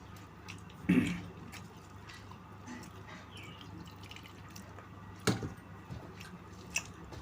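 Someone eating rice with catla and bata fish curry makes faint, close chewing and squishing sounds, quiet overall with a couple of louder wet bites scattered through.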